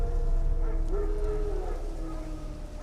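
Wild dogs in The Witcher 3 video game bark and yelp at a moderate distance, with a few short cries and whines over a low, steady rumble of background ambience.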